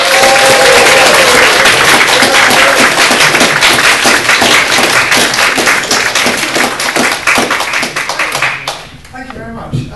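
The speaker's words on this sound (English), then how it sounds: "with a lot of clapping and whooping and cheering, can you welcome our first guest speaker, Philip Reeve?" An audience at a guest talk welcomes the first speaker with loud, sustained clapping, whoops and cheers from a packed room, thinning out toward the end.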